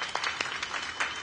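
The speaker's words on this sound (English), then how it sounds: "Let's give John a big round of applause." Audience applause honoring John Garvey aboard the inaugural ride of the Dorothy Day Staten Island Ferry, a brief, fairly soft patter of scattered claps with a few sharper individual hand claps.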